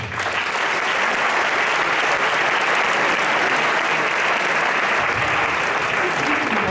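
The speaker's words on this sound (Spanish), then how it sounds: "Un aplauso para ellos." Loud, dense applause from a large audience at a public talk in Spain, a continuous roar of clapping that rises quickly and holds steady without a break.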